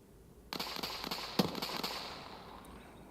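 A burst of distant rifle fire from a firefight in the video game Escape from Tarkov, several faint sharp cracks in quick irregular succession, echoing across open terrain.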